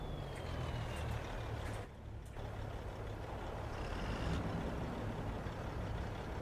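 A loaded six-wheel-drive Kenworth logging truck in Farming Simulator 25 rumbles with a steady low engine drone, while a faint reversing beep sounds intermittently above it.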